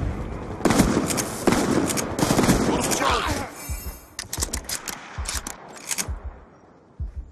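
Gunfire in the video game Call of Duty: Black Ops 2, team deathmatch on the Slums map, including shotgun blasts: a dense run of sharp shots early on, then scattered bursts and single cracks near the mic, with voices under the din.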